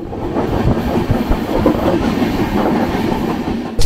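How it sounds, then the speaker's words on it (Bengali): A train from Kolkata toward Ayodhya rumbles along the tracks with a steady clatter of wheels over rail joints, loud and continuous from inside the moving carriage. "ট্রেন এখন এগিয়ে চলেছে পাহাড়পুরের পথে।"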